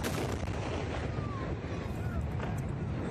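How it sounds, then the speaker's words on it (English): An unmanned NASA rocket exploding just after takeoff, a dense continuous roar and rumble from a distance, loud and unbroken for the whole stretch, as heard in news footage. "the search is on to determine what caused a NASA rocket to explode during takeoff"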